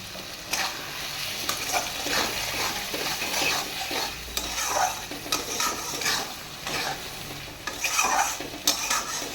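A spoon stirs spice paste frying in a pan for a bata fish curry, scraping in irregular strokes over a constant close sizzle, with occasional louder clinks and scrapes.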